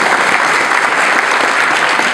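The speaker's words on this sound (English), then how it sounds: "Let's give a round of applause for that." A public meeting crowd bursts into loud, dense applause, a close, continuous roar of many hands clapping with no pauses throughout.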